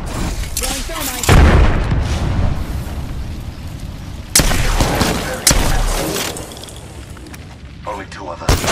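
Thermite grenade explosions boom in Apex Legends with several sharp blasts and bursts, one heavy low thump near the start and later cracks, while voices talk over the action.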